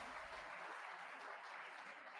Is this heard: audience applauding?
yes